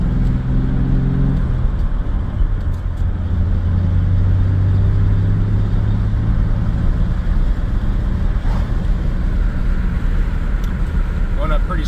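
A 1996 Chevrolet S10 with a 4.3 engine and Holley Sniper fuel injection cruising up a steep highway hill, heard from inside as a steady engine drone and road noise with occasional shifts in tone, under someone talking.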